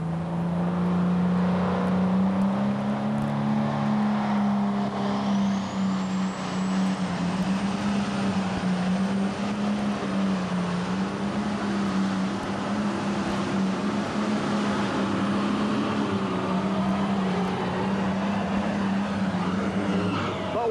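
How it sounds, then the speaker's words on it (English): A Case International pulling tractor's heavy engine drones loudly and steadily under strain at a 1994 NTPA tractor pull in Lexington, Alabama, a constant low roar with a rising whine on top that carries on throughout. "get that beautiful Case International tractor down 300 feet"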